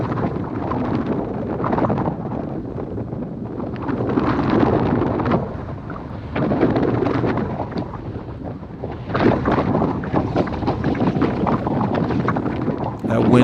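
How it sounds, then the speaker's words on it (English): Gusty wind buffeting a microphone during an outdoor group bicycle ride, loud rumbling bursts that swell and ease in waves, close and steady throughout. "That wind is picking up"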